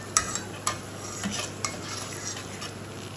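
Potato samosas fry in oil until crisp and brown, a soft, steady sizzle with a few sharp metallic clinks of a utensil against the pan early on, close by and without speech.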